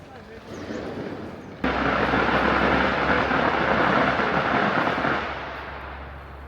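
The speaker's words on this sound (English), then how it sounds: "That noise was firecrackers being let off" A loud, dense crackle of firecrackers set off for the Qingming festival in Guilin or Yangshuo, China bursts in suddenly close by, sustaining for several seconds before easing slightly.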